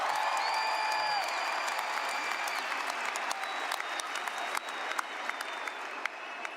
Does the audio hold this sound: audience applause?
yes